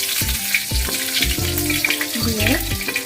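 Whole spices, including cardamom, cloves, cinnamon and two bay leaves, fry in hot oil, giving a close, steady sizzle with a few sharp crackling bursts.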